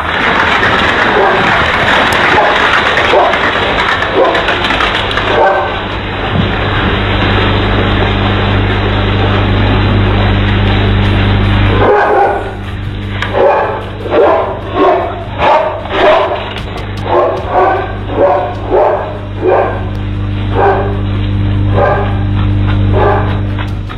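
A dog barks in quick repeated bursts while chased by a herd of cattle, loud and close over constant outdoor noise and a low hum, the barks clearest in the second half.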